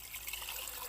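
Water is poured into a cooking pan, a close steady trickle that carries on without a break for the whole moment.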